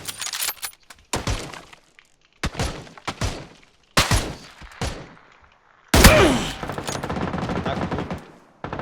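Gunfire in Fortnite comes in sharp, loud bursts separated by short silences, ending in a longer sustained volley that rings on.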